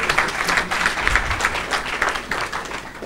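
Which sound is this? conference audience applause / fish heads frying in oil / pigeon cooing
conference audience applause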